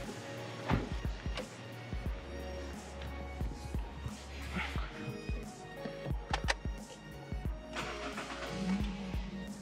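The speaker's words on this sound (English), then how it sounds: "let's head over to the running car and start up the vehicle." A car engine cranks and catches during a jump start, with mechanical clicks and revving bursts at close range and faint voices in the background.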